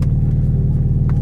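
A Hyundai Genesis idles after a cold start, a loud, deep, steady rumble with a slight pulsing rhythm close to the car, no talking.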